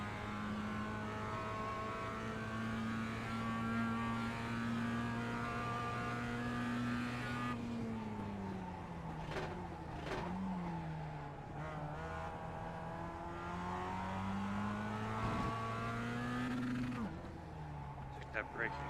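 Race car in a production car racing video game, engine droning steadily then dropping pitch under braking with shifting revs and tyre noise, while a commentator talks over it.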